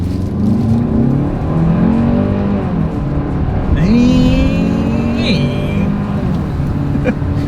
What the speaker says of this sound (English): let's see how quickly we can get our new 2025 Hyundai Tucson here up to speed